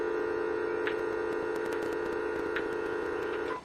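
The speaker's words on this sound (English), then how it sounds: "That was my new fangled phone." A new AT&T home telephone gives a steady electronic tone, with a few short beeps over it. The tone is fairly faint and heard alone, without talk.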